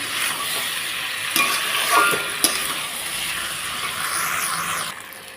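Mutton being sautéed (kosha) with garam masala in a pan, a steady close sizzle with stirring scrapes and a couple of sharp clinks, the frying hiss fading slightly at the end.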